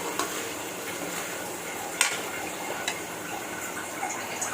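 Food sizzles steadily in a pan during home cooking, a soft continuous crackle broken by occasional light clicks and scrapes from stirring, with no talking.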